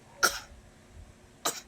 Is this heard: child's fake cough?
yes